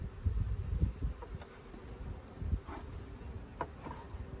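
Honey bees buzz steadily around a swarm trap being transferred during beekeeping, a close, droning hum with occasional louder passes and soft knocks.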